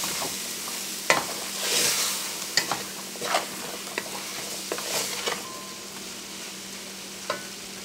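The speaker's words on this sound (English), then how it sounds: "Give it a stir." Chickpea curry with pressure-cooked chickpeas being stirred in a pot for a Guyanese vegetarian dish, giving a few scraping, clattering spoon strokes over a soft steady simmering hiss, fairly quiet with no talking.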